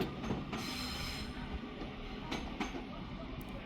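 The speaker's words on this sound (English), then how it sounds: "the 1300 Northern service now departing to Manchester Airport" A Northern service, unit 331-015, departing Manchester Piccadilly for Manchester Airport, heard as a steady low rumble of rolling stock with a few faint rail clicks and squeals, moderately distant.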